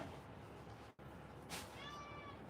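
A pet cat gives a faint, short meow about midway, heard alone over a quiet indoor background hiss.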